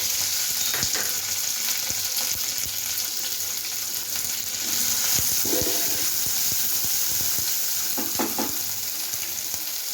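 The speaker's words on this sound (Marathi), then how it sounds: "आता आपण ठेचा टाकून देऊया." Green chili thecha dropped into a hot tempering with curry leaves sizzles loudly and steadily, with bursts of spattering and stirring scrapes over a constant frying hiss; no voices.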